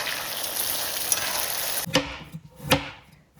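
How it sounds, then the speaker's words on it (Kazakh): Steady crackling sizzle of beef frying in a pot with salt for Uzbek plov, followed by a couple of sharp metallic scrapes as it is stirred. "Жақсылап қуырып алатын боламыз."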